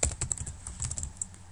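Typing on a computer keyboard while writing Python code on a Raspberry Pi: about a dozen quick, light key clicks in an uneven run, close and fairly quiet, with no voices.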